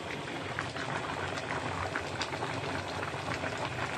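Tomato sauce simmering in a pot, a soft continuous bubbling and popping heard up close at low volume.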